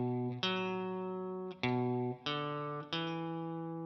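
An electric guitar with a slightly distorted tone plays the second half of a riff, four distinct picked notes with short gaps and ringing sustain, close and clean, with no voices.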